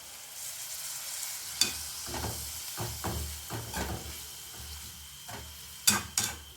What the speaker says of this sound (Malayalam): ഇതൊന്ന് നന്നായിട്ട് മിക്സ് ചെയ്ത് വയ്ക്കാം.